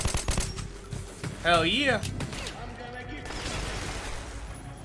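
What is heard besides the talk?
gunfire shooting in the video game Metro 2033 Redux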